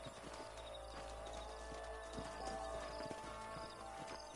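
Horses' hooves clip-clop in the video game Red Dead Redemption, a steady run of overlapping hoofbeats at moderate distance under an ambient game soundscape, with no talking.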